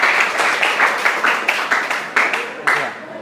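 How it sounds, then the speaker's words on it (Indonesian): A classroom of students claps together, loud and close, a dense patter of hands with distinct sharp claps marking the rhythm for about three seconds before tailing off. "Oke, tepuk tangan dulu untuk Saryani."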